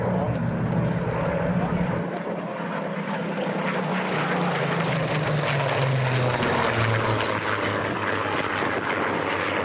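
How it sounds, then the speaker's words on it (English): A formation of seven Merlin-powered Spitfires sweeps past at an airshow, a loud, continuous propeller-engine roar whose pitch drops as the aircraft pass, with a commentator talking over it. "At the front, seven Merlin-powered Spitfires."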